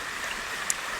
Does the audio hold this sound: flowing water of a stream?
yes